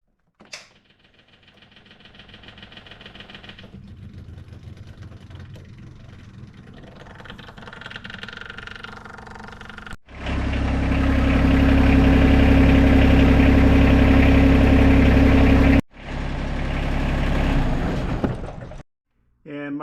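A John Deere 1025R compact tractor during a fuel filter change: a fuel pump hums for several seconds, then the engine cranks, fires and settles into a loud, steady close idle before a brief cut and restart.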